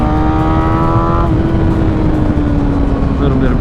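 A 600cc sport motorcycle pulls hard in third gear, its loud, steady engine note rising in pitch and then settling, close up, with a continuous rushing wind roar throughout.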